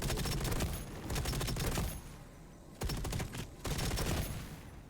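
Rapid automatic gunfire in the space game EVE Online, dense loud bursts of shots with short pauses between volleys, heard alone without talk.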